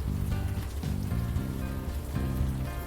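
Rain falls on city streets in the video game Unavowed, a steady hiss and patter of drops beneath a low, pulsing music bed, continuous and close.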